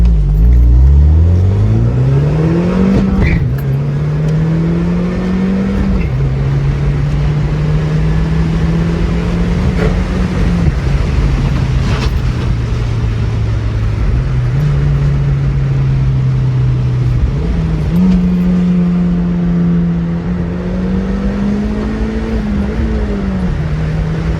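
A 1994 Toyota MR-2 with its turbocharged 3S-GTE engine accelerates while driving, steady loud engine drone rising through several gear changes in a repeating climb-and-drop pattern, with road rumble underneath and no talking.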